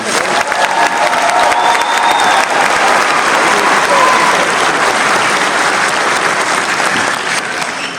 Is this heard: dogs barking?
no